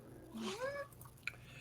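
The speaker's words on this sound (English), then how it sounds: "Oh, that's a cat." A cat gives one faint, drawn-out meow with a rising then falling pitch, followed by a small click, heard in the background of a quiet room.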